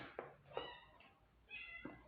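A cat meows several times, short, faint calls spaced about half a second to a second apart, heard alone against a quiet background.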